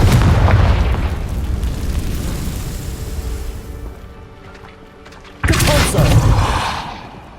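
Confringo spell explosions in the video game Hogwarts Legacy, a heavy rumbling boom that slowly fades, then a second loud blast bursts in and trails off.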